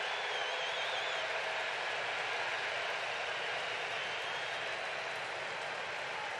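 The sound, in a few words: baseball stadium crowd cheering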